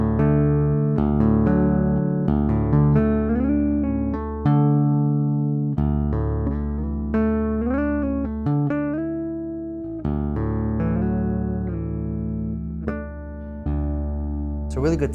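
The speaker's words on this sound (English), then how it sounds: "It's a really good tapping sound out of this bass." Tapped notes on a Sterling by Music Man Ray34 StingRay electric bass with a roasted maple neck, bridge pickup soloed, ring out in quick clusters, melodic and sustained, played alone with clear, bright attacks.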